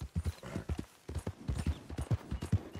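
Horse hooves clip-clop steadily in Red Dead Redemption 2, a close, rhythmic run of hoofbeats at a brisk gait with no talking over them.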